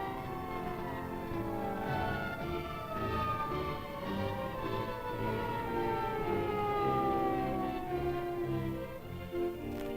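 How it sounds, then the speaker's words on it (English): Wailing ambulance convoy sirens rise and fall continuously over a steady engine rumble as the convoy speeds across a city, several overlapping tones sweeping across the whole stretch, loud and close. "Screaming sirens lead the way as the ambulance convoy speeds across the city"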